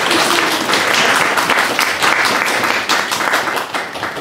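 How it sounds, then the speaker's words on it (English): An audience at a talk on Scientology and critical journalism applauds an L. Ron Hubbard impersonator with loud, dense clapping and a few distinct nearby claps that hold steady before easing slightly at the end. "ladies and gentlemen, a round of applause, please, for Mr. L. Ron Hubbard"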